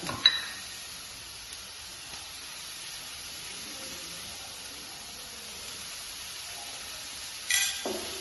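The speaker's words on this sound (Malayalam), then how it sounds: "ഉണക്കി മുളക് ചുവപ്പ് അത് ഇട്ട് കൊടുക്കാം നല്ലോണം ഒന്ന് മിക്സ് ചെയ്ത്" Onions with dried red chillies and salt stirred in a frying pan while making a snack give off a soft, steady sizzle throughout, with a brief stirring scrape at the start and again near the end.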